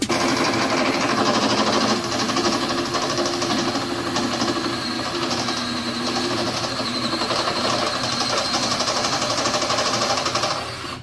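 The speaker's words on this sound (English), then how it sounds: "I'm gonna try to drill it" Continuous rattling, buzzing drilling as a hole is bored for a fuel hose in a 1971 VW Beetle, loud and close, steady for about ten seconds before easing off, with no speech.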